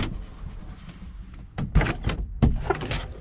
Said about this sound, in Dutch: Dus we gooien de deuren open.